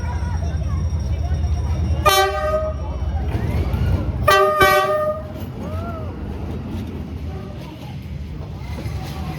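A train horn sounds two loud, drawn-out blasts while a train passes through Hanoi's narrow train street, with a steady rumble and people talking in the background.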